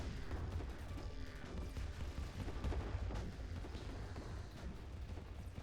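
Quantum torpedoes striking targets in the space strategy game Distant Worlds 2, a dense continuous rumble of overlapping booms and impacts that rolls on steadily without pause.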